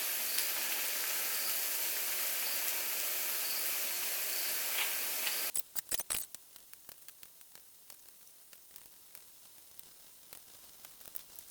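A burger sears in a hot cast iron pan with a loud, steady sizzle that cuts off abruptly partway through, leaving only scattered faint pops and crackles.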